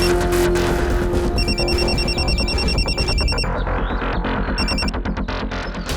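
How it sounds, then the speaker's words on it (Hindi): Telephone ringtone sounding during a call to a neighbour, repeated electronic ring bursts over a loud dramatic music bed, the ringing recurring in two clusters. "वो भुल्लर अंकल, उनको फोन करके देखिए"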